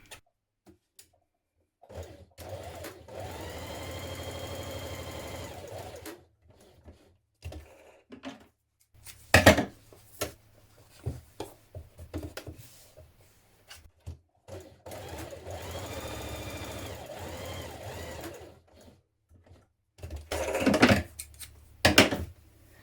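A sewing machine stay-stitches the side edges of a dress bodice between the notches, running in two long bursts separated by handling clicks and fabric movement, close and moderately loud.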